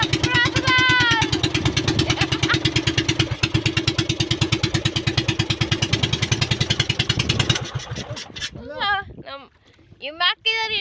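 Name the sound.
boat engine stalling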